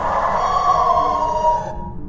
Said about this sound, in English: they have their own unique wail sound in the parabolic microphone that sounds like this